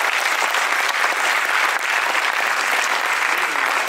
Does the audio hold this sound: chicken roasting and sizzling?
no